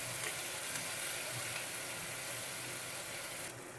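Ginger and green chili paste sizzles steadily in a hot pan as it is stirred, a dense, even hiss with faint scraping, quite close and uninterrupted.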